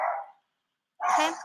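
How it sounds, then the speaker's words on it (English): A dog at home barks at someone at the door, a short close burst after a brief spoken word and a moment of silence. "That's my dog."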